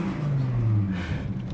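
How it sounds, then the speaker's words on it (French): A Volkswagen Golf VR6 engine revs up briefly and swells in a low, resonant growl, close and moderately loud for about a second. "Cette sonorité du VR6, je m'en remets pas"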